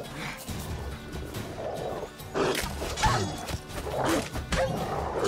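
Dogs bark in The Witcher 3 during a combat encounter, with several loud, sharp barks and yips mixed among impacts and clashing sounds.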